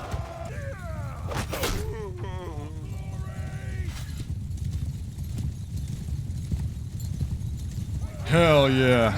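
Horses gallop in a Mount & Blade battle as Swadian knights charge, a steady rumble of hooves and clatter under battle noise and voices, with a loud burst of action near the end.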